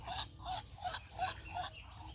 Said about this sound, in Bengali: চীনা হাঁস,